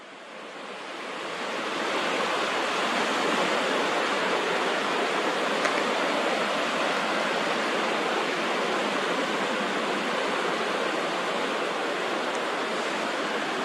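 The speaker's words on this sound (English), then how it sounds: "So the tide will be coming in for about another 45 minutes or so." Incoming tide washing onto the shore makes a steady, broad roar of surf that swells over the first two seconds and then holds constant and fairly loud, with no voices.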